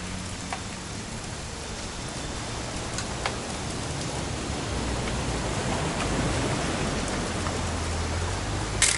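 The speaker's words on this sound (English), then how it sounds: "It's gonna rain the whole weekend" Rain falling steadily, an even hiss of drops on surfaces with a few sharper nearby drips, continuous and moderately faint, growing slightly denser toward the end.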